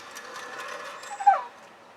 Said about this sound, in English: That's my dog requesting playtime.